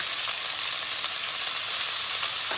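Onions hit half a cup of hot vegetable oil in a pan, producing a loud, dense, continuous sizzle that holds steady throughout with no talking.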